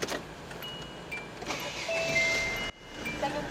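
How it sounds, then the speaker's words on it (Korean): A used SsangYong Super Rexton SUV with about 170,000 km on it starts inside the cabin: a brief crank catches at once and settles into a steady engine hum, heard close from the driver's seat. "시동 이렇게 한 번에 잘 걸리고 있고"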